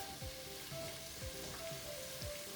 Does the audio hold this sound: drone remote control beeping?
no